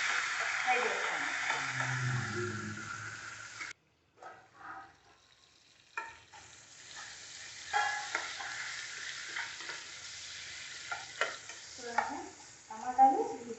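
Tomato pieces fry with curry leaves in a pan, a soft sizzle with stirring scrapes that pause briefly partway and then resume with uneven clatter.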